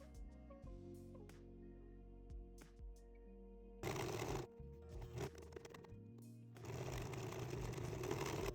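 Sewing machine stitching ribbons onto a fabric tool scroll, with bursts of rapid mechanical whirring and needle chatter separated by handling clicks and pauses, close and fairly quiet.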